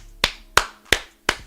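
Four sharp hand claps ring out alone at an even, slightly slow pace, each one crisp and close with a quick decay.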